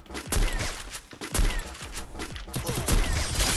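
Gunfire in a battle royale video game, repeated heavy bursts of shots in quick succession, loud and close, with game noise filling the background.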